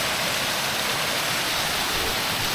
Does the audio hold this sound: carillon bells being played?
no